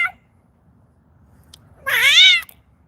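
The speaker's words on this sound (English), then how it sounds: "There's a big cat." A large cat gives one loud, drawn-out meow with a rising then falling pitch, heard close and alone after a stretch of near silence with faint low rumble.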